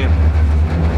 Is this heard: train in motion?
yes